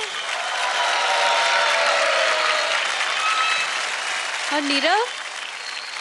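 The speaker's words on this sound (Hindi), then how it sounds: "जोरदार तालियां नीरव के लिए।" A studio audience on a televised dance competition claps loudly and continuously, a thick wash of applause that swells and holds, while a voice speaks briefly near the end.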